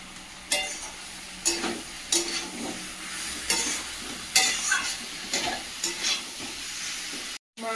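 Meat frying with a little garam masala, a steady sizzle punctuated by repeated loud spatula scrapes and stirs at an uneven rhythm, close by, with a brief dropout near the end.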